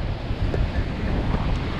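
Steady wind buffeting a microphone on a beach, a loud broadband rumble with gusty low-end swells throughout, no voices.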